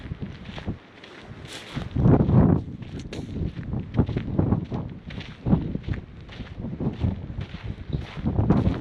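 Outdoor breeze on a cool, roughly 55-degree day buffets the microphone with gusty, uneven rumble, mixed with faint crunching steps and rustle.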